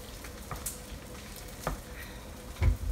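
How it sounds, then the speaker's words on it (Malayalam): Cooked tapioca gets mashed with a spoon in a pan, giving a few soft scraping and tapping strokes over a faint sizzle, with a louder knock near the end. "സ്പൂൺ വെച്ച് ഉടച്ചെടുക്കുക"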